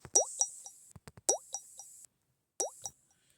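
A few soft, bright electronic blips and chimes from button presses on a Sharp STX-2 AT&T phone, in small clusters separated by brief silences, quiet and close.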